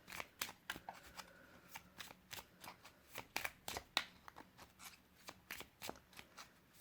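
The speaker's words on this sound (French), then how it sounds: "On bat les cartes et on va demander 4 cartes." Small Lenormand cartomancy cards being shuffled by hand, a rapid run of crisp riffling flicks and slaps repeating steadily, close and fairly quiet, with no talk over it.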